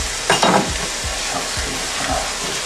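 Turkey pieces, lightly salted, frying in a pan with a steady sizzle, with a few stirring scrapes and soft knocks near the start.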